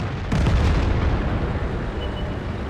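Artillery impacts and explosions in a tank battle game boom with one sharp blast, then a dense rumbling roar that lingers loudly throughout.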